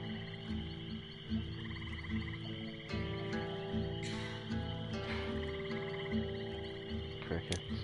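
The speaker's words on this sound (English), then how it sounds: "Crickets." Night ambience in the swamp game Knee Deep, with a steady layered chorus of crickets and frog-like croaks pulsing in a repeating rhythm, a dense insect bed under soft game music and a few sharp clicks near the end.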